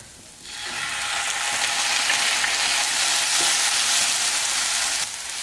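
Small chopped tomatoes hitting hot oil in a pan for Kerala-style chicken curry, a sudden loud, steady sizzle that holds for several seconds before easing slightly.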